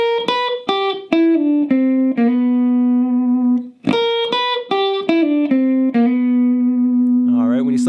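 An electric guitar lick played very slowly, one clean note at a time, with several notes held long and ringing. The phrase is played twice, and the second pass ends in a wavering, bent note. No one talks over it.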